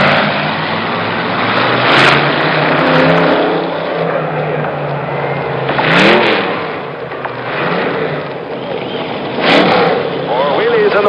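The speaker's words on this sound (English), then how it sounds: "More wheelies in the wheelie car by the 37-year-old Robert Craig Knievel." Robert Craig Knievel's wheelie car, driven by the 37-year-old stunt rider at a packed Kings Island stadium event in 1975, revs loudly with rising and falling engine surges over a continuous crowd roar, while an announcer talks over it.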